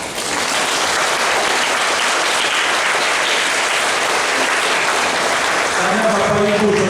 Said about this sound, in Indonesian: Saya ingin kita tepuk tangan untuk kerahiman Allah.